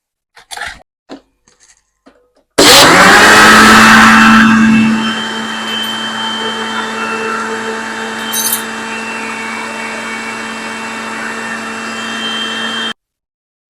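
A mixer grinder blends lassi with sugar, kicking in abruptly with a loud whirring roar that eases to a steady hum for about ten seconds before cutting off sharply, after faint clicks of the jar being set.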